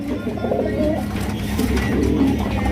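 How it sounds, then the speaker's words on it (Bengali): Large Rasgolla breed pigeons coo softly and repeatedly nearby, low throaty calls overlapping against faint background noise. "রাজগোল্লা কবুতর দেখছেন সাইজ মাসালা একদম বিশাল"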